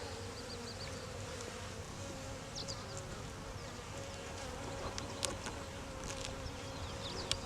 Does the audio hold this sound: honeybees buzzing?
yes